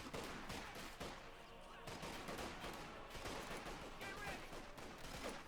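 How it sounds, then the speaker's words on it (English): Continuous World War II battle gunfire in Company of Heroes 2, with rattling machine-gun bursts and scattered shots layered into a busy, fairly quiet combat mix that runs throughout. "Bit of shooting going on."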